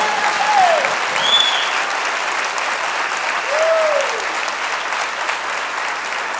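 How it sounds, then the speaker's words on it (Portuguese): Sustained applause from a church congregation in Brazil, a dense steady clapping that swells slightly, with faint vocal tones rising above it. "Aplauda ao Senhor agora."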